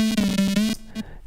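A single-oscillator synth lead built in Native Instruments Massive with a filter and no effects, playing a short sustained note with rhythmic pulses before cutting off, then a brief blip; close, loud and alone.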